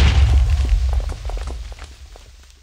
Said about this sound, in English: Two creepers exploded!